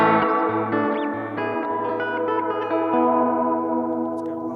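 Guitar notes played through the plate reverb setting of a Walrus Audio Mako R1 pedal, each plucked chord ringing out and washing into a shimmering, lingering tail.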